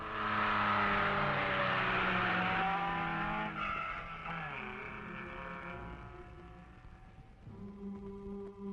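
Loud rally car engines roar close by beneath old castle walls at the 1972 Cyprus Rally, their pitch climbing and shifting as cars pass, an echo off the walls, then fading before another engine swells up.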